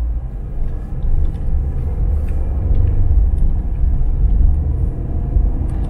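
A mail carrier's vehicle rolls past outside, giving a steady low rumble of engine and road noise that swells slightly and holds for several seconds, with no voices.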